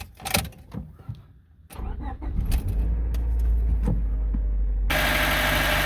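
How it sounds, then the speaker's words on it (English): A 1996–2000 Honda Civic, just back from a blown cooling hose replacement, cranks and starts, then settles into a steady, loud idle with a constant hum, after keys and clicks in a quiet cabin. "I'm gonna start the car and let it run for a minute or two"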